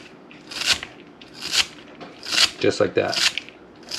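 A knife rough-chops cilantro stems on a cutting board in quick rhythmic strokes, each one a crisp crunchy thunk, heard close under a speaking voice.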